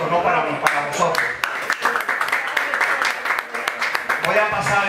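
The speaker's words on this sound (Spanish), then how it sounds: "Un aplauso para vosotros, no para mí, para vosotros." A business networking audience at the Mar de Negocios gathering claps loudly and continuously, a dense, even wash of hands with voices mixed into the applause.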